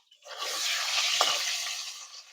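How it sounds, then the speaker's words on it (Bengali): Potatoes for a meat curry fry in hot oil in a pan with a steady, close sizzle. A brief stir or clink comes partway through, and no one speaks. "মাংসের আলুগুলো আমি ভেজে নিচ্ছি"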